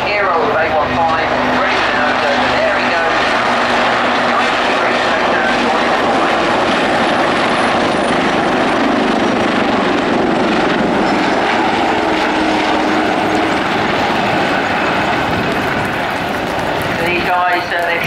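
A Royal Navy Lynx or Wildcat military helicopter flies a role demonstration at Yeovilton air display. Its rotor and turbine sound continuously and loudly, while an announcer talks throughout.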